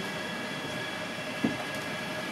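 Zoo ride train in an Asian wildlife exhibit slowing toward a stop, a low steady rolling rumble with a brief faint clunk partway through, no voices heard.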